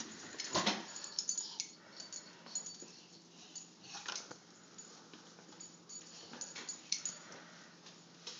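Dogs whimpering and whining indoors, with soft paws pattering and sniffing mixed in, close by and fairly steady, while brief human voices murmur now and then.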